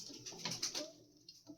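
Rampuri pigeon cooing in a short close burst, a few soft throaty calls clustered near the middle before fading into quiet.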